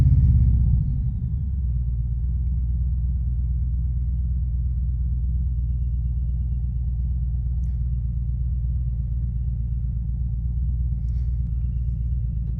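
Harley-Davidson Road King Special with a Stage 1 performance upgrade doing a 0 to 60 run on a cool day, a loud, steady low engine rumble holding close and continuous after a brief initial surge.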